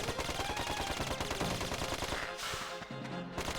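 Rapid gunfire from a gun in the video game Dark Cloud 2: a dense, unbroken stream of loud shots layered with game sound effects, with no voices.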